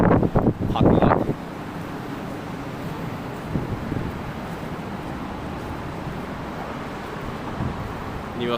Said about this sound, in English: Oh, it's getting windy right out of